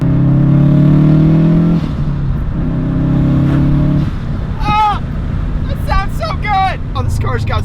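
Subaru STi car engine while driving, a steady loud low drone that drops and shifts with gear changes, wind rushing over it, with excited voices breaking in near the end.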